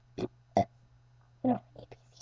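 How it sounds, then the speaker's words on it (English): A child burps in short bursts while reciting the alphabet, several close, loud belches separated by pauses, with some voiced syllables mixed in. "I'm gonna burp my ABCs."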